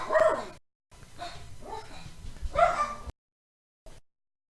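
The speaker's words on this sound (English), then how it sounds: "dogs started barking" Several dogs bark in short bursts, close and loud, with sudden cut-offs into silence between them.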